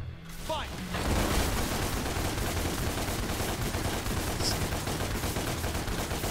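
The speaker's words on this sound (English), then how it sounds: "so I'm just gonna keep shooting him" Shooting at a hunter demon in DmC: Devil May Cry: rapid, sustained gunfire that starts after a brief opening and runs as a steady, loud stream of shots over dense game noise.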